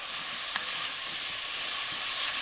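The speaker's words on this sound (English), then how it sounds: "you want to let it fry for a little bit" Curry powder and masala frying with mangoes for a Guyanese mango curry, a steady close sizzle with a few faint stirring clicks and no talk.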